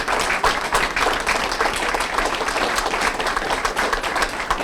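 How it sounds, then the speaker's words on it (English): A small-town audience claps for town employees, a dense, steady round of applause that runs the whole stretch without letting up, with faint voices mixed into the crowd. "let's give them a round of applause"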